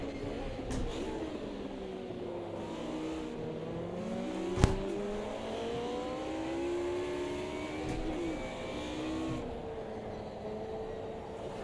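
The Mercedes 190E Group A race car engine in Automobilista 2 revs and shifts through the gears on the Laguna Seca circuit, with its pitch rising and falling steadily at moderate volume and one sharp click partway through.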